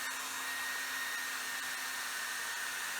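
A hair dryer blows steadily on crayons, a constant airy roar with a thin whine, moderately quiet and unbroken, no talking.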